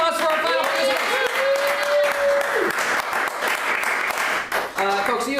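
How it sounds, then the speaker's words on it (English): A live audience at a polka show in San Francisco claps steadily throughout, sustained applause with cheering and a voice carrying over it. "Round of applause for our final"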